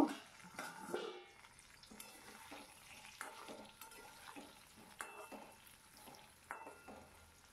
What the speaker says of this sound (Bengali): আলুটা ঢাকনা চাপা খুলে দিয়ে এবারে ভালো করে ভেজে নেব